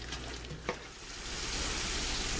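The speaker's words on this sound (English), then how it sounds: "Now once your onions are starting to cook down nicely, like they're doing now" Onions frying in a pan on a holiday cooking setup give a steady, even sizzle all the way through, with one brief clink near the start and no talk.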